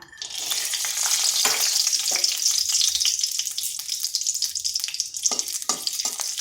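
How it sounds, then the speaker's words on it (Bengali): Peanuts crackle in hot oil at the start of a vegetarian cabbage dish, a close, continuous sizzle broken by occasional stirring scrapes, with no one speaking. "বাদামটাকে একটু ভেজে নিচ্ছি"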